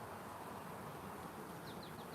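Honeybees in an open hive during an inspection, a faint, steady buzzing hum with a few brief chirps near the end and no voices.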